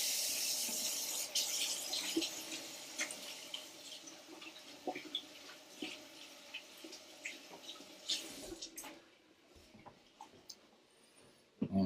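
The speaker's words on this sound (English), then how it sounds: "Wash my hands real fast." Tap water runs steadily into a sink as hands are washed during preparation of a smoked beef shoulder. It is a soft, continuous splashing hiss that fades out near the end, with faint clicks and no talking.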